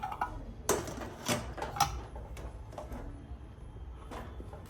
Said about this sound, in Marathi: चला आता आपण कुकरचं झाकण लावून घेऊया.